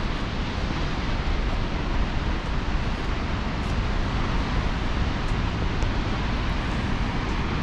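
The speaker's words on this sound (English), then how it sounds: "Look at that water rushing out of there." Water rushing out of Roosevelt Lake dam, a loud, steady broadband roar of heavy flow released through the dam, continuous and unbroken with no voices over it.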